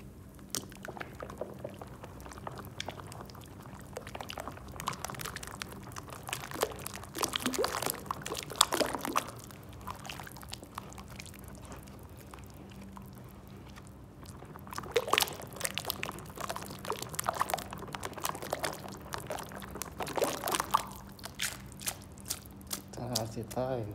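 Water is poured and stirred into plaster mix in a gypsum-carving workshop. Wet sloshing and liquid bursts come up close, and someone talks over the mixing throughout.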